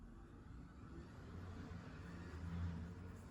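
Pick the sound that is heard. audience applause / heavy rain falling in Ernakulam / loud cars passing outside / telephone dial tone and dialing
loud cars passing outside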